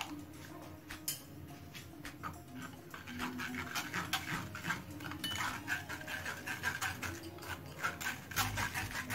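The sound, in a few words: straining ground spinach through a sieve in kitchen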